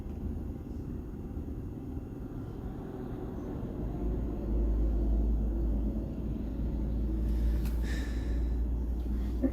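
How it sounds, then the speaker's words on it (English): Deep thunder rolls low and continuous through a tornado emergency in Huntsville, Alabama, the rumble swelling partway through and later joined by a brief burst of brighter noise. "heard a good old thunder on your stream."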